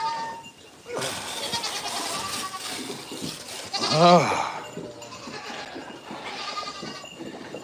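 Goats on a farm bleat loudly and close by, one wavering cry standing out over steady background bustle, with a person briefly speaking nearby.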